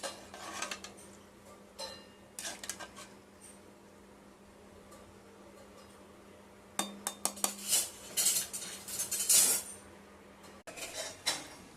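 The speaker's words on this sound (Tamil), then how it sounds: "அப்படியே கிண்டி விடுங்க." A spoon scrapes and clinks against a cooking pot while heating water with curry leaves for rava upma, quiet at first, then a burst of clattering stirring strokes near the end.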